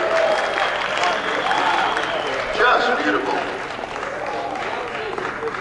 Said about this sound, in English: Ladies and gentlemen, these great artists a big round of applause.